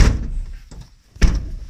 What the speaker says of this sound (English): This is the sliding side door.